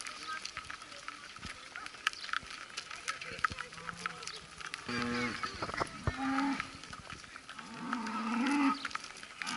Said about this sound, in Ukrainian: корова розшукує свого хазяїна.